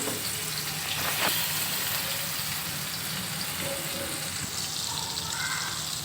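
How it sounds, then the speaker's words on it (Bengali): Hilsa fish and eggplant frying in a pan give a steady, close sizzle and hiss that runs the whole time, with faint clinks and no talking. "আমি একটু ইলিশ মাছ আর হলো বেগুন ভাজি করে নিচ্ছি যাতে দুপুরে খাবারটা হয়ে যায়"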